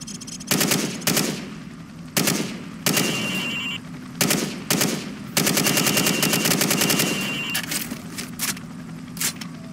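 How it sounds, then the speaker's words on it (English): Bursts of gunfire from Call of Duty 4 on PC as pop-up targets are shot through wood, plaster and sheet metal: loud rapid automatic volleys in several separate strings, with single cracks between them. "I want you to shoot the targets through the wood."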